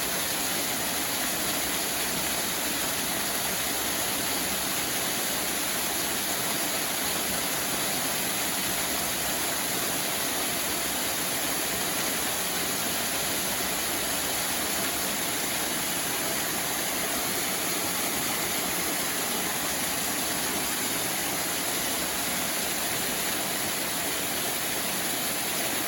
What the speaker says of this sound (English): This water's going on down to flow to the first of the waterfalls that we saw.